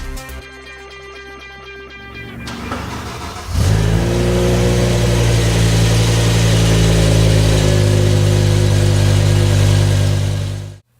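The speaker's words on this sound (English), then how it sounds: "This is a 2006 BMW M5." A 2006 BMW M5 sedan with its 5-liter V10 starts up: a whirring crank for a few seconds, then a loud, close engine that catches with a sharp rise and holds a strong, steady idle-level roar until it cuts off.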